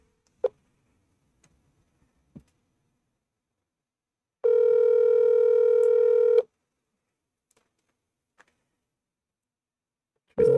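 Telephone keypad dialing on a phone: isolated short tone beeps and clicks spread out, one long steady tone lasting about two seconds in the middle, quiet and close with no talking.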